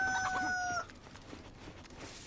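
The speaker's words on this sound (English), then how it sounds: "Where is it? Chicken somewhere." A chicken in a video game gives a short clucking or crowing call that stops abruptly within the first second, leaving only quiet background noise.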